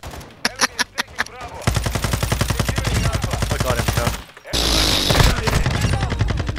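Rapid automatic gunfire in the video game Squad, a few spaced shots giving way to long, loud bursts of rhythmic machine-gun fire, a short pause, then another burst.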